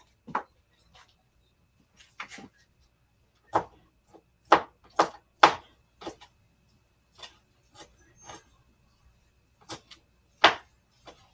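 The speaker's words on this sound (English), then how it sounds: "I'm I'm chopping up some shrimp really small." Knife chopping raw shrimp into small pieces on a cutting board, heard as irregular sharp close taps in short bursts with gaps, moderately loud, with no talk over it.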